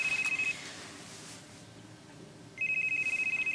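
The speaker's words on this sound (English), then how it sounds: "Phone call." A telephone rings with a rapid electronic trill, one burst at the start and another after a short gap, heard clearly and alone in a quiet indoor soap opera scene.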